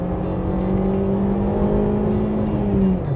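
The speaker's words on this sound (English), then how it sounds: "And it really does enjoy revving." A 2021 Maruti Suzuki Swift's DualJet engine revs under acceleration, a steady engine drone with a tone that rises and then eases, heard close from the cabin, no talking.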